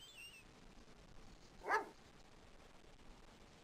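A single short dog bark rings out once, faint and distant against a quiet background on a street corner beside an antique store in the video game Phantasmagoria.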